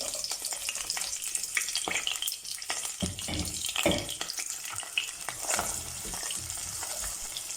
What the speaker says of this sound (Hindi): तो अभी हम इसके अंदर प्याज ऐड करेंगे।